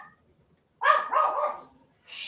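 A dog barks in a short, close burst of several yelps indoors, loud against an otherwise quiet room, followed by a brief rustle.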